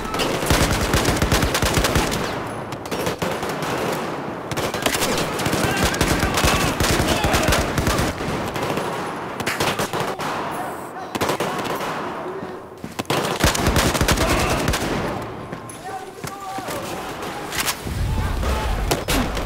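Machine gun fire in the video game Battlefield 4, with loud, sustained rapid bursts that keep going with short pauses across the whole stretch.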